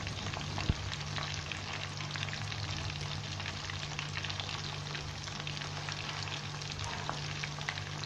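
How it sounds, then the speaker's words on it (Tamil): Fish 65 shallow-frying in a pan of oil: a steady, dense sizzle and crackle that holds at an even level throughout, with one soft knock early on. "மீன் நல்லா வெந்துட்டுருக்கு"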